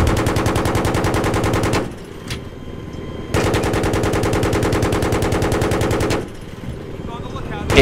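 Rapid sustained machine gun fire from a helicopter gunner's mounted gun shooting at dirt bikes in a video game, two long loud bursts separated by a short pause, with another burst starting at the end.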